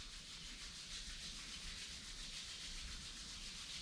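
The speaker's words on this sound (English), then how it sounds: "Rub your palms." Palms rub together steadily during a yoga session, making a quiet, continuous swishing friction with no talking.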